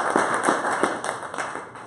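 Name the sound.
audience applause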